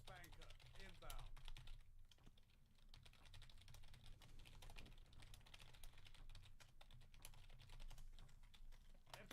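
Rapid, fast typing on a computer keyboard during a Halo Infinite match, a dense run of crisp key clicks that continues throughout, low in level under game sounds and low hum.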